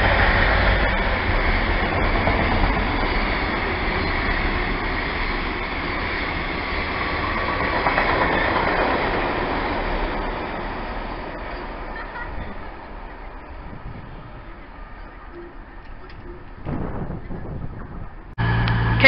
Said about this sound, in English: passing through here is some freight. Got a freight train. Looks like a class 66.